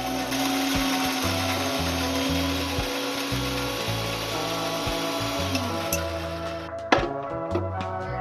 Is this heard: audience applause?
no